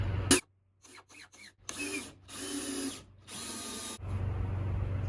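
A power drill drives a bolt into a post on a small mobile deck, in several short whirring bursts separated by pauses and ending in a longer steady grinding run, with no talking.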